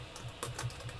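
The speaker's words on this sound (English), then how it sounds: "I just need to type in my password" Quick soft taps on a computer keyboard as a password is typed, a faint, close cluster of several keystrokes in an irregular rhythm.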